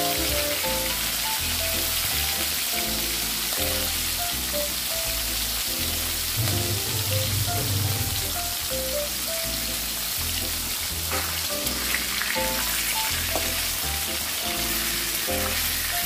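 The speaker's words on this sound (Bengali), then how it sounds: "দেখো আমি তেলটা গরম করে নিয়েছি, এবারে মাছগুলো ভেজে নেবো" Fish fries in hot oil, a dense, continuous sizzle like steady rain that lasts throughout, partly masked by music playing over it.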